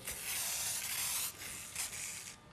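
WD-40 sprayed lightly from an aerosol can into a mold as release agent, a close hissing spray in two or three bursts, the last trailing off.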